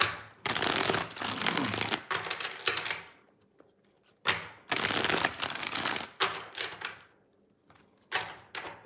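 Tarot cards being shuffled in several loud, crisp riffling bursts, separated by short quiet pauses and a few soft taps.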